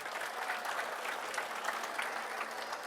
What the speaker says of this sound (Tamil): பெருத்த ஒரு கைத்தட்டலை கொடுக்க வேண்டுமா உங்களை கேட்டுக்கொள்கிறேன்.